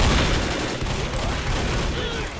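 Dense gunfire from the video game Left 4 Dead, loud and close, with rapid overlapping shots running continuously through the whole stretch.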